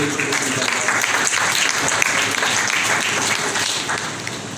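Loud, sustained applause fills a church congregation during a Palm Sunday service, steady clapping from many hands that continues throughout without letting up.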